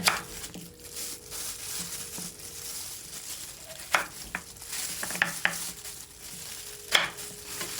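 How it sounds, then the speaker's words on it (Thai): Knife cutting through firm taro on a board, irregular crisp taps and chops, close by, with quiet gaps between strokes. "แล้วหั่นเนื้อออกมา แบ่งเป็นชิ้นๆ ตามความต้องการเลยค่ะ"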